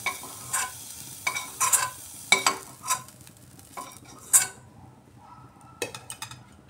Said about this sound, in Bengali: এভাবে আমি সয়াবিন ভেজে নিলাম।